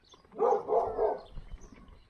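An old deaf dog, eleven years old, gives a short series of about three muffled barks at moderate distance, followed by faint low rumbling.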